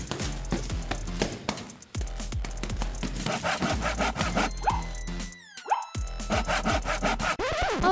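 Rhythmic back-and-forth strokes of a toy cardboard saw, close and steady, with a scraping, rasping texture over several seconds.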